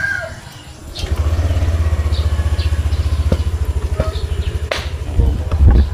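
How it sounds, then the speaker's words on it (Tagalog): A motorcycle engine warms up in a rapid, even, pulsing idle close by, running steadily for several seconds with a short burst of other noise near the end. "Initin natin ang ating motor."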